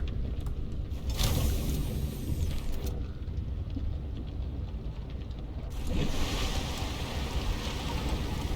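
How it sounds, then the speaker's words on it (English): Hail and a thunderstorm in the video game Subnautica Below Zero come through as a continuous rushing, pattering wash with a low rumble, swelling in bursts and fading at moments. "It looks like it's hailing right... What the? There's a freaking storm going on right now. A literal thunderstorm."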